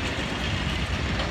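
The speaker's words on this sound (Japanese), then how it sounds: "中央線各駅の電車。" A Hankai Tramway electric tram rumbles past close by, a steady broadband roar of wheels and motors with no voices.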